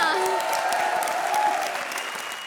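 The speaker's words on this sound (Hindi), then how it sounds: "तालियां" Studio audience at a TV comedy show claps in a steady, fairly loud burst that fades slightly toward the end, with a sustained musical tone ringing underneath.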